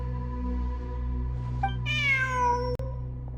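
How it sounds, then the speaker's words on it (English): A cat meows once in a video game, a clear rising-then-falling harmonic cry over a steady synthetic music bed, with a sharp click near the end. "Look! A cat!"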